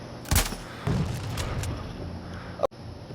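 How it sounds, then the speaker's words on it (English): A single explosive sniper round fired in Sniper Ghost Warrior Contracts: a sharp, loud crack followed by a booming blast that rolls and decays over a couple of seconds before a brief click. "it gives out an explosion, so it kills everything around"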